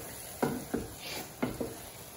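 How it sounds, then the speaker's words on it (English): A spoon stirring fried hard-boiled eggs into a Chettinad egg curry in a pan, giving four distinct scraping strokes over soft background sizzling, close and fairly quiet. "6 eggs go into it. I give it a mix."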